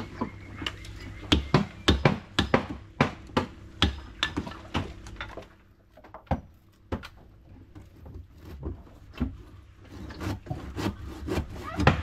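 Sharp, rasping strokes of a handsaw biting into wood, a quick irregular series of scrapes with a brief pause midway, close and fairly loud.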